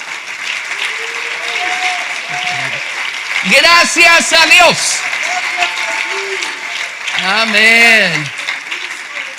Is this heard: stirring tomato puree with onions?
no